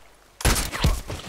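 Gunfire in the online shooter Contract Wars: after a quiet moment, a sudden loud burst of close shots hits hard, with a second report following quickly and echoing tails.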